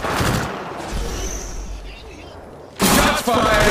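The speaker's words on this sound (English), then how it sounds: "Shots fired and they're hitting me" Gunfire in Apex Legends Mobile, loud bursts of rapid shots at the start and again near the end, separated by a quieter stretch of ambient game noise.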